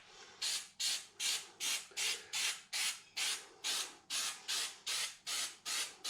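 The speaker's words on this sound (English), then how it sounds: "So anything under here that's still white, I'm just going to spray that." Rubberised bed-armour paint sprayed from an aerosol can onto the underside of a Toyota Fortuner bumper, heard as a rhythmic run of about fourteen short, close hissing bursts with brief gaps, no talking.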